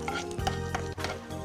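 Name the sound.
mustard seeds and cumin seeds frying in a pan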